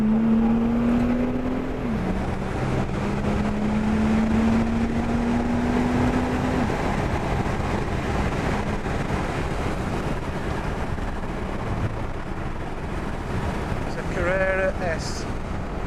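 An Audi A5 3.0 TDI quattro drives at speed around the Donington Park circuit, giving a loud, continuous engine drone over heavy road and wind roar, with a rising engine tone early on and a brief voice near the end.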